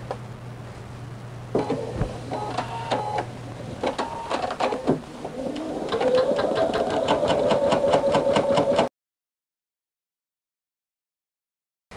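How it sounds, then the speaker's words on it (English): An embroidery sewing machine bastes fabric in place with cutwork needles, giving a close, steady mechanical whir with rhythmic stitching ticks that shift pace midway, then stops abruptly, leaving silence. "So now the machine is just gonna baste this right in place."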